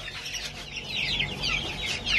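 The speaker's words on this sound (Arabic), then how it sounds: "هاي الدجاجه وهذا الديك 50 الف." Chickens and a rooster clucking and chirping at a poultry farm in Baghdad's Zafraniya area, steady overlapping calls amid constant background noise, fairly close.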